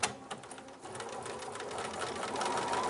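A sewing machine stitching fabric and back stitching at a seam point, a steady close mechanical whir with rapid needle chatter that builds slightly toward the end, heard alone.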